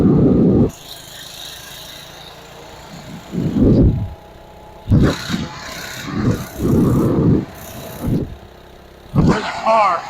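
A small mini bike engine whines and revs in repeated bursts during a street race, loud and close, dropping back between pulls while a voice shouts briefly over it.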